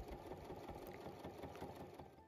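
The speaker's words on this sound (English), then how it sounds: "I then just top stitch this down on my sewing machine." Sewing machine running a top stitch on a cosplay garment, a rapid, even mechanical chatter of stitches sustained for a couple of seconds, faint and close.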